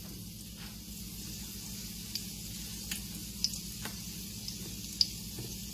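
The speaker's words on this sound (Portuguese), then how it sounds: "agora vai fritando. Já está a ficar a lourinha por baixo." A low, steady sizzle of codfish fritters frying in a little olive oil in a pan, with a few faint pops and crackles scattered over it.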